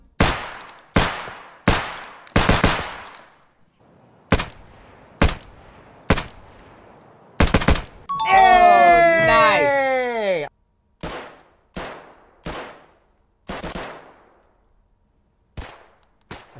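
Glock 17 pistol shots ring out one by one, loud and sharp with echoing tails, spaced unevenly across the stretch, while a voice briefly speaks midway through the firing.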